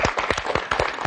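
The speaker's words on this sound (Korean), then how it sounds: "박수 한번 쳐야 되겠죠" A studio audience at a home economics lecture on smart consumer habits claps in a quick, even burst of about eight sharp, close hand claps.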